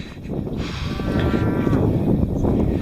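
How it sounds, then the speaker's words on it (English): Cows mooing near a hiking trail up to Murray Hill Scenic Overlook, a loud drawn-out bellow with clear harmonic layers rising over steady low background noise, no talking. "Damn, they're noisy cows."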